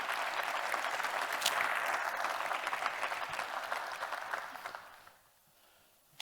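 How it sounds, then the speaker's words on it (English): Indoor corporate kickoff audience giving a big round of applause, dense clapping that holds steady for about four seconds, then fades out with a final sharp clap. "So I got a big clap for everybody helping us get to that point."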